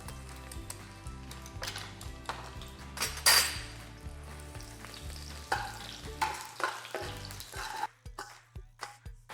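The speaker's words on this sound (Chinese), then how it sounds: "再来，先来爆香蒜头。" Garlic frying in oil in a wok, a soft continuous sizzle punctuated by sharp metallic clanks and scrapes of a spatula against the pan, close but fairly quiet.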